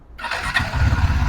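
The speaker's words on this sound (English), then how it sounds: "Now it's time to switch on the motorcycle and let's listen to its exhaust note." A KTM RC390 motorcycle engine starts up, a brief cranking squeal giving way to a low, steady engine note close by.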